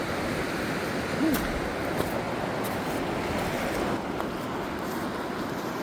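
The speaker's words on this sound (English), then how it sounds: "Quite the fast flowing river, but I like the sound of the river." A fast-flowing river rushes in a steady, dense roar, close and unbroken, with light wind buffeting the microphone and no voices.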